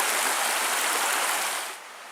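Steady rushing water of the Big Carp River in the Porcupine Mountains, Michigan, a broad close hiss that holds loud and even, then eases slightly near the end.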